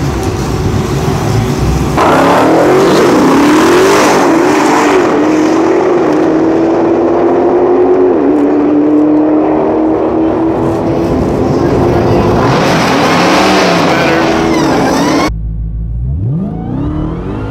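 A Dodge Demon 170 makes a track pass: a loud, close engine roar climbs and drops through gear changes and holds for most of the run, then cuts off abruptly near the end.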